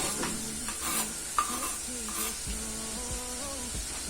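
Steady sizzle of onions frying in hot oil, with occasional scraping and stirring sounds over the hiss.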